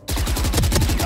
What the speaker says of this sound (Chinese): 二楼一只机枪仔在打